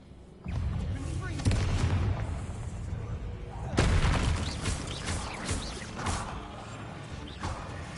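Bombarda blasting spell from Hogwarts Legacy, a game spell cast in a spider-filled area, bursts into loud booming explosions, a heavy blast at the start and another near the middle, with crashing debris and rumble trailing between them.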